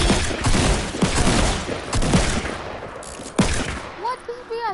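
Assault rifle fire crackles in a PS4 video game, several rapid bursts of gunshots ringing out loud and close before fading, with game sounds trailing at the end.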